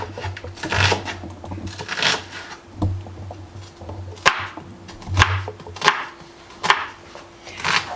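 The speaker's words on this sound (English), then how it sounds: "Now the onion we need to chop finely" A knife finely chops an onion on a cutting board, giving sharp close taps in irregular bursts with brief pauses between, fairly loud and with no talk.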